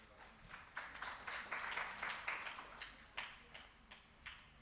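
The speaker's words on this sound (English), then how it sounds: "A great round of applause, please." Sparse, faint applause from a small audience at a cybersecurity panel discussion, scattered uneven claps in a quiet room.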